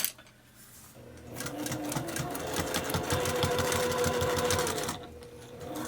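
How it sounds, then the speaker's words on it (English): A sewing machine back stitches across a jeans hem, starting after a brief pause and running as a loud, steady, fast mechanical stitching rattle for about four seconds before stopping, with no talking. "now I'm going to come to the end, and I'm going to give it some more back stitching right there."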